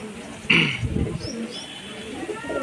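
Madras homing pigeons coo in short, low, near phrases within a loft, with a brief sharper chirp early on and a faint steady background hum.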